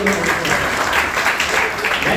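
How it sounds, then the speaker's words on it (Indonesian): Audience applause at a coaching seminar, a loud, continuous, dense burst of clapping from a large crowd, steady for about two seconds. "Dan ini tepuk tangan sekali boleh?"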